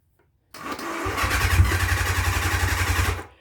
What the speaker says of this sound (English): so the bike does not want to start because it has no fuel in it